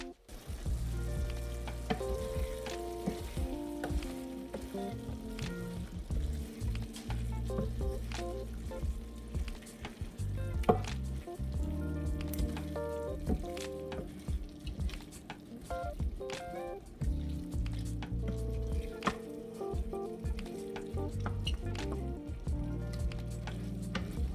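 Jambalaya rice and shrimp frying and sizzling steadily in a pot, with occasional stirring scrapes and bubbling throughout, close and continuous.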